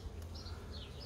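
Bees hum inside a hive in a brief, faint, continuous buzz with a low drone and a few higher wingbeat whines drifting over it.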